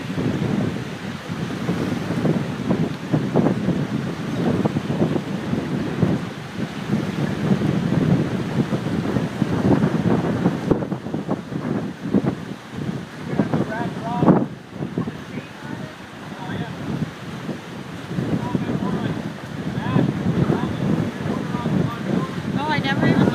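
A strong outdoor wind roars and gusts against the microphone in an unsteady, buffeting rush that lasts throughout, while people talk over it.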